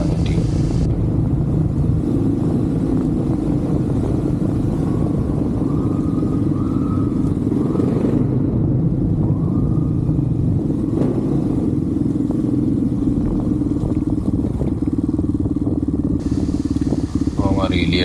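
A Honda XR400 supermoto motorcycle engine drones steadily as the bike rides along a road, loud and continuous with wind rumble throughout.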